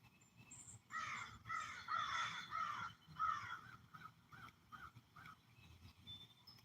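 Several crows caw in a back yard, a burst of overlapping harsh calls followed by a quicker string of shorter caws that fade, all at middle distance with no voices.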